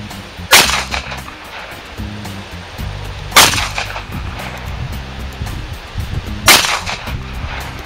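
Three sharp, loud gunshots from a Taurus TCP 380 pistol firing hard cast lead bullet loads outdoors, spaced roughly three seconds apart, each followed by a brief echoing tail.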